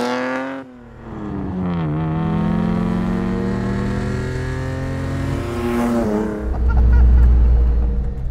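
A classic Toyota sports car engine and exhaust sound while driving, a steady loud tone that swells and falls in pitch as the car accelerates and changes gear, with a deeper rumble near the end.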